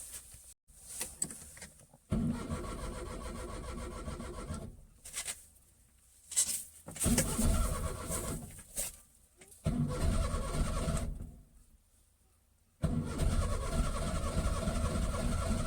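A cold Maruti 800 car engine cranks and struggles to start in the morning, several loud starter and engine bursts separated by short pauses before it catches and runs steadily.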